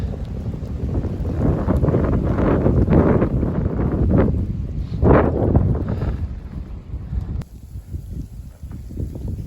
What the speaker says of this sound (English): A little bit of a West Virginia view with that wind and snow flurries flying.